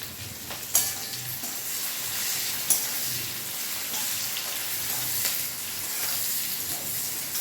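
Fish and chili frying in a pan give a steady, close, hissing sizzle, with a couple of sharp clicks from a utensil standing out early on.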